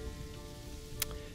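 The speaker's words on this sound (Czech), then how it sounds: "Škoda, že nám zase prší" Rainfall in the zoo-building video game Planet Zoo makes a steady, soft hiss of drops on surfaces, with one brief sharper splash standing out near the end.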